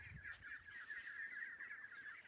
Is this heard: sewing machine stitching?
no